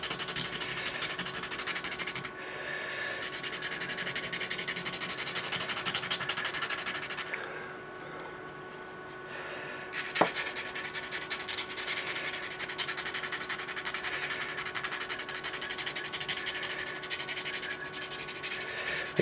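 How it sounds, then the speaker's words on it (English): Steady, continuous rasping of sandpaper rubbed by hand over a wooden oar tip, a close scratchy friction that runs unbroken with slight variations in intensity and one small knock midway. "start sanding"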